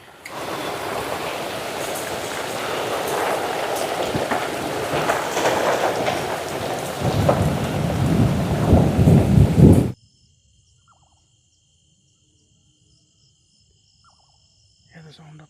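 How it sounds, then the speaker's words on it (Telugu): Heavy rain pours down with thunder rumbling during a windy storm at a hilltop campsite. The downpour is loud, dense and steady for about ten seconds, then cuts off abruptly to near silence. "వర్షం కుమ్మిడే అండి."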